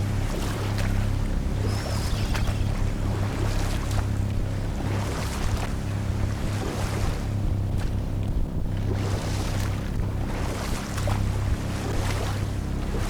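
A rowing boat moves across water in the God of War video game, with steady lapping water, wind and periodic oar strokes at an even rhythm, no talking.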